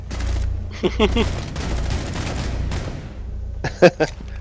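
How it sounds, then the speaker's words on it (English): Shotgun gunfire in the video game Rainbow Six Siege, during a bank team deathmatch, comes as a quick cluster of loud blasts over a busy background of game noise and a few voice sounds. "all shotgun, all the time"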